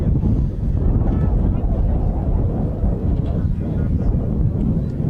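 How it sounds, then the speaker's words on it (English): Loud, constant wind buffeting the microphone outdoors in Las Vegas, producing a heavy low rumble with no break. "Very windy day here in Las Vegas."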